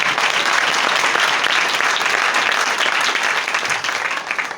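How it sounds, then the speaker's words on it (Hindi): A church congregation claps steadily during a worship service, a dense and loud wall of applause that holds evenly throughout. "तालियां बजाएं उसके जलाल के लिए।"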